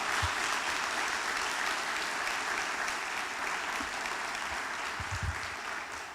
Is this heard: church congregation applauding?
yes